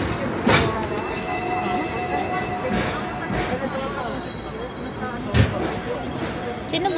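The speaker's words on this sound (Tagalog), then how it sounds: "ayan, may tram na parating." Tram arriving, a steady low rumble of rolling wheels with faint squeal tones and a couple of sharp clanks, heard under people talking nearby.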